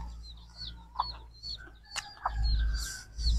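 Chickens cluck in short, scattered bursts near at hand, with a few sharper squawks over a low rumble of background noise.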